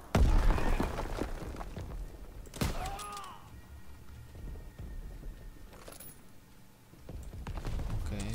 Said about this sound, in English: Okay, grenade.